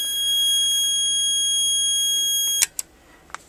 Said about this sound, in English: I could silence the alarm.